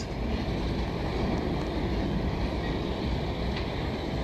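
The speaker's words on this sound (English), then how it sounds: "Intermodal with mixed freight" A continuous low rumble and rolling clatter of a long intermodal freight train with mixed freight passing at a distance in Montreal, steady and unbroken.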